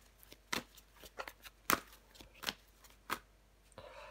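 Tarot cards are handled and laid down with a series of soft, separate slaps and flicks at irregular intervals. Each one is quiet and close in an otherwise still room.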